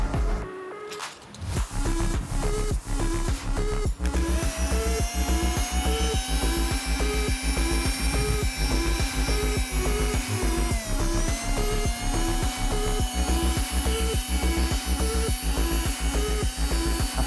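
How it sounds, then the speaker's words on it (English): A homemade mini rotary tool built from a drill motor and run on a 12-volt battery sands rusty pliers, giving a loud, steady high motor whine over a fast, rhythmic grinding and scraping that continues throughout. "getting the vibration from the motor and the sanding"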